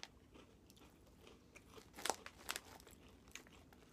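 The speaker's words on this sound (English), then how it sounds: "Very crunchy, very crisp." Close-up crunching of ridged Ruffles Queso cheese potato chips, a few sharp crisp bites followed by quieter chewing crackles, with no talking.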